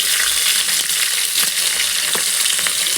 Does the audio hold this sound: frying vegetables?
yes